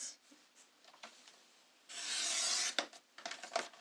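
A paper trimmer slices through cardstock at 6 inches: light rubbing and sliding scrapes, then one long, brighter swish of the blade, followed by a few quick shuffling taps.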